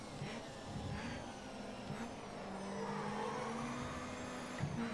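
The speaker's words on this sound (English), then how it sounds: "it reminds me of many project cars due to the sound emitted by the cars" Touring car engines in the racing game Grid Autosport hum steadily at moderate volume, with shifting engine pitch as several cars run together and a faint bump near the end.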